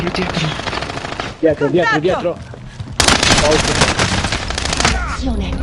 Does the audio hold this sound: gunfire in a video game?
yes